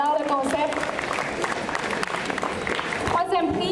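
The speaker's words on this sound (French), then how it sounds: "Donc, une bonne main d'applaudissement pour l'originalité." An audience at a Fantasticon 2017 masquerade costume contest applauds a contestant, with steady clapping and crowd noise filling the room throughout, loud and continuous with some voices mixed in.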